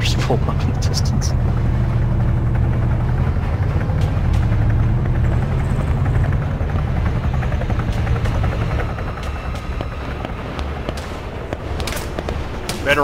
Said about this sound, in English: It's funny hearing the helicopters pull up in the distance.